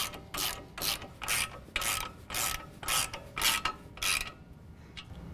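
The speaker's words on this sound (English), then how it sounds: "I'm just going to snug up the 2 bolts for the strut mount lower location." A ratchet wrench snugs the two lower strut mount bolts on a 2015-17 Ford F-150 4WD during a 6-inch lift kit install, giving about eight bursts of loud, rapid clicking with short pauses between strokes and no talk.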